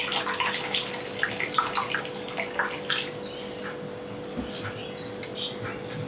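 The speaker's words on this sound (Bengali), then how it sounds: "আমরাগুলো আমি একটু ভালো মতো ধুয়ে নিব।" Hog plums (amra) being washed in water, light splashing and sloshing with small clinks close by over a faint steady hum, soft and continuous throughout.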